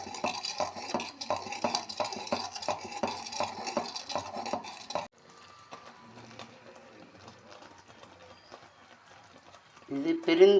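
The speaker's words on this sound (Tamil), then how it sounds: "பொறுமையாக கைவிடாமல் கிளறி கொண்டே இருக்க வேண்டும்" Peanut candy syrup is stirred continuously in a pan, with a spoon scraping in quick, regular rhythmic strokes that then soften and slow, as a voice speaks over it.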